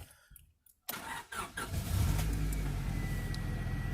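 A 1998 Honda Civic EX with a freshly replaced fuel pump cranks briefly and catches, settling into a steady idle that stays moderately quiet and close, with no voices.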